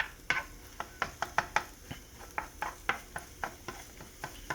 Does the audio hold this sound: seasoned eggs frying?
yes